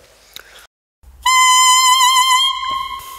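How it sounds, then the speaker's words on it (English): A single-reed clarinet mouthpiece played alone, off the instrument, gives one sustained, piercing high squeal for about a second and a half after brief handling noise. "I'll just take the mouthpiece off from the clarinet and show you how that sounds by itself"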